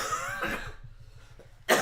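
A person's coughing fit during a tabletop miniature board build: a few harsh coughs early on, quieter wheezy sounds in between, then a sharp loud burst at the end, close to the microphone.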